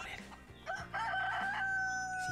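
A rooster crows in the survival video game DayZ, a loud drawn-out cock-a-doodle-doo rising and holding near the listener, with some clucking and fowl noise before it.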